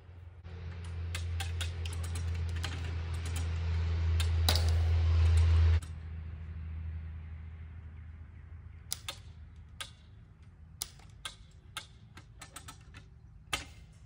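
A wire tensioner is ratcheted tight on a garden fence outdoors, giving a run of sharp, sparse clicks over a quiet background after a low steady hum fades out.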